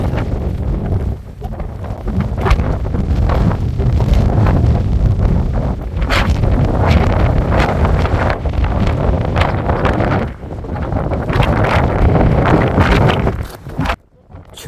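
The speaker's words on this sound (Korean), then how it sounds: "우리가 올라온 반대편 저석봉 쪽에서는 엄청난 칼바람이 불어옵니다" Strong, cold wind roars steadily across the snowy Cheonwangbong summit of Jirisan, buffeting the microphone with loud, continuous gusts that barely let up before cutting out near the end.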